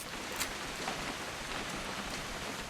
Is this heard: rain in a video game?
yes